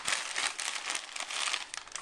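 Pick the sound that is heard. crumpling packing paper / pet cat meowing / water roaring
crumpling packing paper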